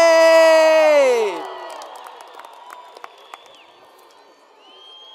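Graduation audience at a high school ceremony cheering for teachers, a loud burst of shouts and a high whoop that quickly fades into scattered claps and distant crowd murmur.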